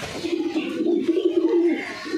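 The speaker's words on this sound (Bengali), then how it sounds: "এই হচ্ছে পায়রা" Pet pigeons coo nearby in a low, warbling, continuous roll, loud and close, with a soft bubbling rhythm and no talk over it.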